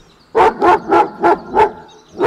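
A dog barks fiercely at a man standing outside a car window: about six loud, close barks in a steady rhythm with short gaps between them.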